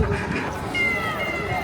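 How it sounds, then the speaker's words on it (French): A giant 3D cat billboard screen in Shinjuku, Tokyo, gives a short meow amid busy street noise, heard at a distance while people talk nearby. "c'est un chat en 3D"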